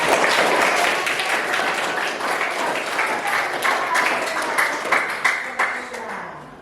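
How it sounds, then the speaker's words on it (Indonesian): A classroom of ninth-grade science students claps for a presenting group, loud dense clapping that thins into scattered, separate claps toward the end, with faint voices underneath. "mari kita beri tepuk tangan"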